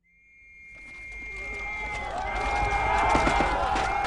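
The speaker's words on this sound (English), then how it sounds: "The whistles blew and the madness began." Whistles shrill to launch an infantry attack in a radio-play battle scene, a steady piercing tone rising out of silence, then more whistles overlapping as crowd-like shouting and running noise swells beneath them.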